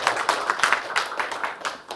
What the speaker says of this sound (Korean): 일단 우리 민족에서 박수 한번 칩시다.